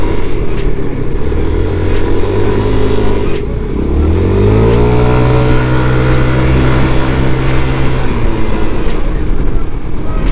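Yamaha NMAX scooter with a modified CVT and heavier rollers revving loud and close, engine droning low then rising in pitch as it accelerates hard, continuous throughout.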